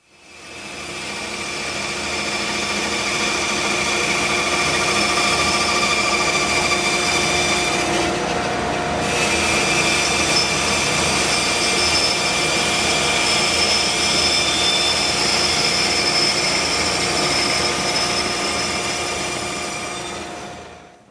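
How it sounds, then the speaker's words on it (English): Bandsaw cutting wooden circles on a circle jig, a loud steady whining drone with a constant hum that holds for about twenty seconds, dipping briefly midway as the blade works through the wood, no talking. "next up, we'll go to the bandsaw, put these on the circle jig,"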